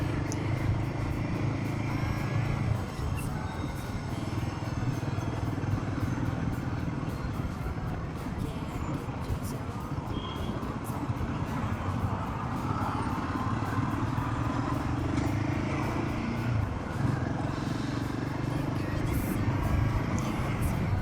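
A Royal Enfield Himalayan motorcycle riding fast along an open highway: a continuous engine drone mixed with heavy wind rush, steady and loud throughout with slight rises in pitch, no voices.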